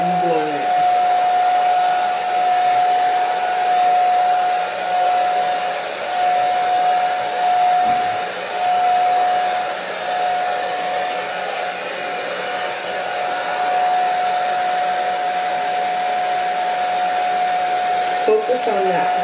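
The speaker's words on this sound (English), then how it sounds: "Hold it while you blow it." A hair dryer blows steadily on hair while it is washed and styled, a continuous loud whooshing drone with a high whistling tone, occasionally shifting as it moves, lasting the whole stretch.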